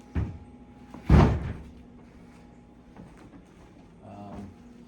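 Wooden cabinet doors knock and thump shut a couple of times, with a louder bang near the start, then quieter handling sounds.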